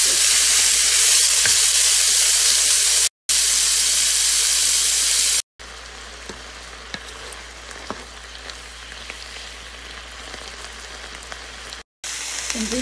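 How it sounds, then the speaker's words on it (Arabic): Sliced beef for beef stroganoff hits a very hot pan, a loud broad hiss of sizzling that cuts out abruptly, followed by a quieter steady frying sizzle with faint clicks before the loud hiss briefly returns. "ساخن جدا، راح أضيف اللحم"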